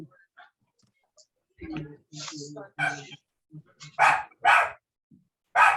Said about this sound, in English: my dog is going nuts right now and it's gonna be annoying